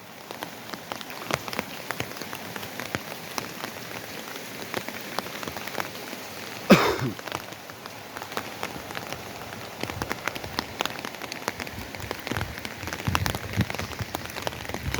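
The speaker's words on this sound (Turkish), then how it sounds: "gece 3'ten beri müthiş bir yağmur yağıyor köyümüzde" Steady heavy autumn rain pours down on a village in Diyarbakır, Turkey, a dense wash of drops drumming on surfaces with scattered louder splats, no voices.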